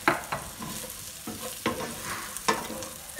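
Raw banana and coconut get stirred in a pan, a spatula scraping in repeated strokes every second or so over a quiet background sizzle.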